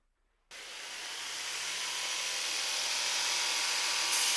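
A belt grinder starts up after a short silence, its whirring roar swelling within a second and then holding steady and loud, ready for rough grinding an integral-guard Damascus hunter knife blade.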